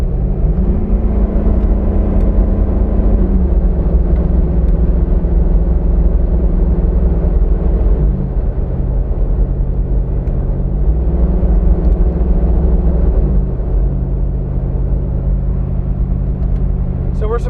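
Jeep Wrangler JK with an LT V8 engine running close by, a steady loud rumble whose pitch drops and climbs at several gear shifts, with some voice faintly present.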